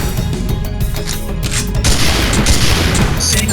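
A gunshot from the video game Dino Stalker, with a dense, booming blast spread across the clip amid loud game audio and no talk.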